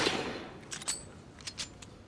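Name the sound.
fireworks being set off outside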